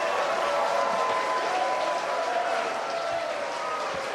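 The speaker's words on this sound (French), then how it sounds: "j'aimerais qu'on applaudisse très fort notre gardienne format géant" Audience applause fills the room for a giant-sized guardian, a steady dense wash of clapping that holds at an even level throughout with no voices on top.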